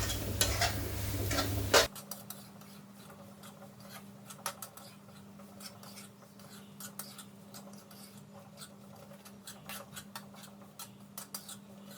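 Semolina being stirred while dry-roasting in a pan, soft rhythmic scraping of a spoon against the pan with light clinks, quiet and close, after a brief louder burst of noise at the start.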